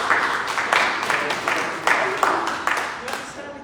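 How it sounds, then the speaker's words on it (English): A room full of people claps in a brisk round of applause for a candidate at a local election hustings, steady and fairly close, with voices mixed in. "round of applause for our candidate"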